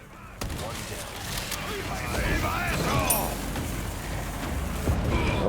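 Sporadic gunfire and booms in Resident Evil 4 ring out at a moderate distance beneath a man's ongoing speech and game ambience.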